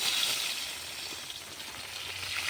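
A rohu fish head fries in hot oil over a clay stove outdoors in the rain, giving a steady, dense sizzle and crackle that holds evenly throughout.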